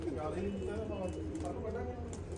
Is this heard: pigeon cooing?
yes